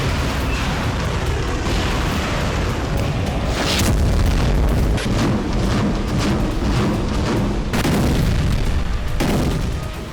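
Explosions from Russian missile strikes on a Ukrainian region come as a dense rumble of deep booms and bursts under a constant roar, with sharper blasts standing out every few seconds.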